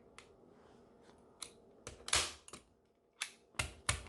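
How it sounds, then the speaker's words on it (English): A staple gun clacks several times up close, stapling upholstery fabric onto a bar stool, sharp irregular snaps with brief gaps, some louder than others, in an otherwise quiet space. "we're going to stick a staple right up under here"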